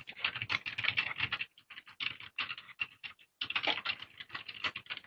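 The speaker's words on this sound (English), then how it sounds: "We can hear her clicking away" Typing on a computer keyboard while notes are taken in an online meeting: rapid, quiet clicking in bursts, with short pauses between runs of keystrokes.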